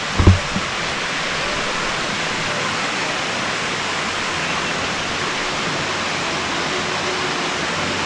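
Steady broadband rush of water from Etiwanda Falls, a continuous full-spectrum roar heard close at hand along a hiking trail, with a brief knock near the start.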